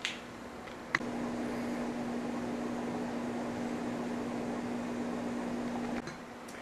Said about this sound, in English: And now we have power to our new fan motor and we're done.